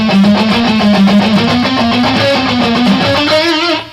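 A loud, distorted electric guitar rattles through a rapid chromatic sequence pattern of steadily stepping notes, continuous for several seconds before cutting off, with no voices.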